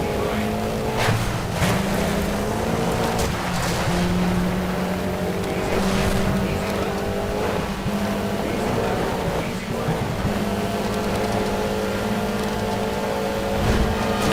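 A rally car in Sega Rally races through a riverbed, its engine holding a steady droning whine with surging revs and splashy, rushing noise throughout, close and loud with no talk.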